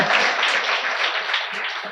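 Audience at a book launch event claps, a continuous, fairly even spatter of hands throughout the short stretch.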